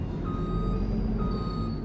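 A truck's reversing alarm beeps twice in a slow, steady rhythm over a loud engine rumble, with no talking.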